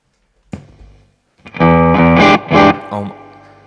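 A JHS Bonsai overdrive pedal on its strong mod setting drives a guitar: a lone plucked note, then loud, thick distorted chords that swell and cut off twice before a quieter final chord rings out.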